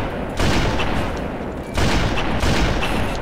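Gunfire in Halo CE as an enemy sniper on a cliff takes a headshot: dense, loud bursts of shooting and booms that swell around the half-second mark and again later, with no talk over it.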